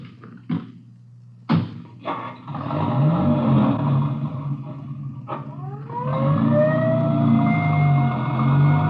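An ambulance siren in a Dragnet radio drama begins wailing in rising sweeps partway through, over a steady vehicle engine rumble, after several sharp door-like thumps near the start.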